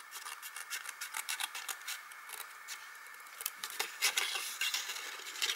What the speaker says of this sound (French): Donc je vais couper les onglets, juste ceux des côtés.